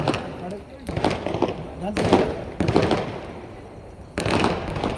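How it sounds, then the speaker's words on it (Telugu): Firecrackers bursting during a Vedic fire ritual, several sharp cracks in irregular bursts close by, with people talking in the background. "టపాకాయలు కూడా రాయిస్తున్నారు"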